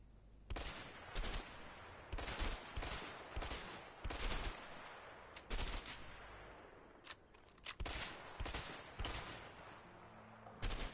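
Rapid bursts of gunfire fired at empty houses in the video game A Way Out, loud and close, in repeated volleys with short gaps and brief pauses for reloading.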